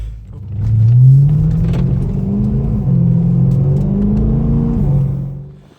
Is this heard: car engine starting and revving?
yes